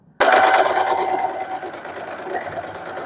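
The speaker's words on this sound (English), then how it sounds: "I'm going to sew them with a straight stitch with a 1/2 inch of seam allowance" Sewing machine running a straight stitch through fabric doll arms and legs for a fox doll, starting abruptly and whirring steadily and close at a fast even pace for about three seconds.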